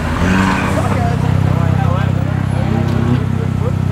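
A Mazda RX3 pulls away from a car show at Homebush in Sydney, its engine a loud, close, rising and falling rasp carried steadily over crowd noise.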